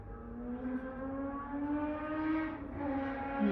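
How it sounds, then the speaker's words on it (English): Motor racing cars whine in the distance outdoors, a steady droning engine tone that rises and falls in pitch, faint but continuous throughout. "Like motor car racing or car racing"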